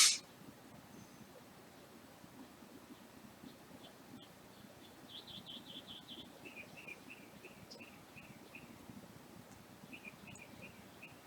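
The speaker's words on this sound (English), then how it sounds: "Sounds like we got confused birds outside whistling." Birds whistling outside a house, heard as faint, high, repeated chirps in short series against a quiet background, distant and intermittent.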